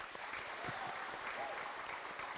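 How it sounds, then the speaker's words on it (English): Audience applause fills a legislature gallery, with continuous, fairly faint clapping heard from a distance and no breaks. "I'd like to give them a round of applause to start off today"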